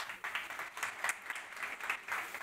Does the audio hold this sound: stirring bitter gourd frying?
no